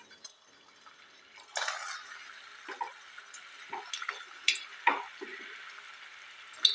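Pieces of Assamese pitha sizzle in hot refined oil in a kadai over a medium flame, giving a soft, steady bubbling hiss with scattered light pops and the odd gentle stir, fairly quiet and close.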